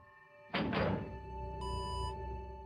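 A switch is pulled in the Resident Evil 1 video game, giving a heavy double thunk with a sharp mechanical clank and a brief ringing tone after it, set over a low steady game ambience.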